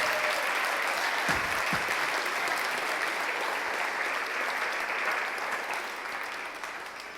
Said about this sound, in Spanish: Denle un aplauso a Jesús por ello.